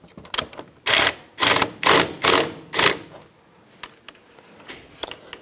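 Bolts on a 2004–2009 Toyota Prius front brake caliper are snugged down, giving a series of short, loud ratcheting bursts in quick succession followed by a few lighter clicks and taps close by.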